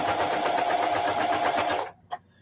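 A sewing machine hums in one continuous run, stitching in the ditch on a holiday wall hanging, then cuts off sharply near the end, leaving a small click and near silence.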